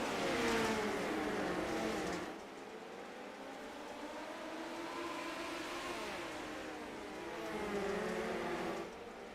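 A midget race car engine revs hard and accelerates on a dirt oval, the high-pitched whine climbing and falling as it pulls away, with other cars droning in the distance.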